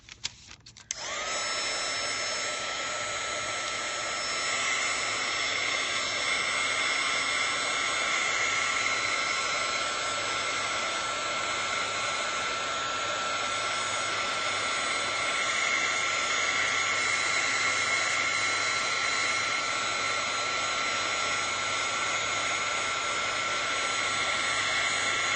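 A heat dryer blows steadily and loudly while drying a watercolor painting, its whirring hiss unbroken for the whole stretch after a brief click on at the start.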